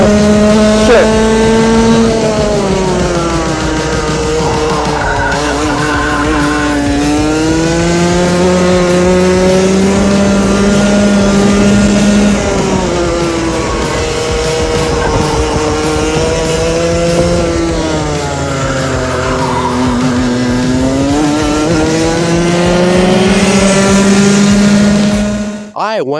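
A race car in a time attack, its engine revving hard and loud throughout, rising and falling in pitch as it accelerates and shifts through gears, sounding close as if from the cockpit.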